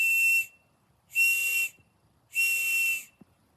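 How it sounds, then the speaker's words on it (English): Three sharp, shrill whistle blasts, each about half a second long and evenly spaced, loud and close with silence between them. "3 blows of a whistle can help draw aid to your situation."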